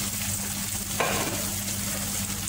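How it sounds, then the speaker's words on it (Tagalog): Eggs cook with alugbati (Malabar spinach) in a pan, giving a close, steady sizzle with a brief stirring scrape in the middle and no voices. "I-mix na natin ang alugbati."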